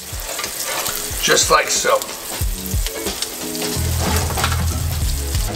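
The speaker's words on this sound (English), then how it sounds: "We're gonna shallow fry our crab cakes." Crab cakes shallow frying in hot oil, a loud continuous sizzle and crackle close by, with brief speech and some scraping or handling noise partway through.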